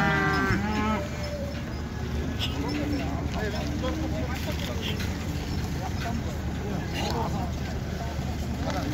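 Cattle low and moo amid the bustle of a busy livestock bazaar in Karakol, Issyk-Kul, with vehicles arriving and people talking throughout; the calls come intermittently from nearby in a dense, continuous crowd din.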